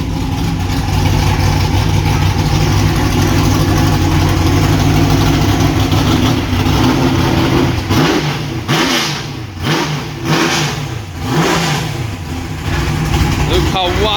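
A big, loud classic race car engine at close range, first holding a rough, steady idle, then barked through a series of sharp throttle blips that swoop up and down.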